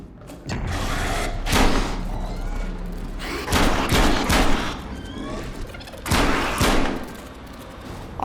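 Several heavy gunshots and thumping impacts land in bursts from a weapon in the VR shooter Metro Awakening, loud and close, spaced a couple of seconds apart.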